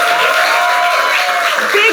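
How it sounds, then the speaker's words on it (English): A studio audience breaks into applause for a guest, a brief wash of clapping and cheering with a voice calling out over it. "A round of applause for Slimcase, please."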